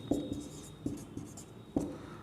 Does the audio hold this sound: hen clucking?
no